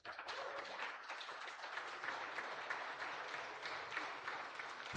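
Guests at an aviation company headquarters launch applaud to welcome India's Minister of Civil Aviation, a steady, moderately distant round of clapping that continues evenly throughout.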